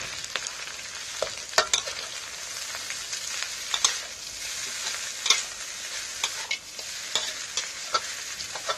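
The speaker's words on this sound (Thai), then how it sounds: "ครับแล้วก็ผัดรวมกันนะครับ" Rice with crispy pork, egg and soy sauce is stir-fried in a pan: a constant crisp sizzle punctuated by repeated sharp spatula knocks and scrapes at an uneven rhythm, close by.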